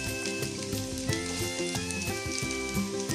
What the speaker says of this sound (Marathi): त्यानंतर जो कांदा आहे तो कांदाही आपण आता याच्यामध्ये भाजून घ्यायचा आहे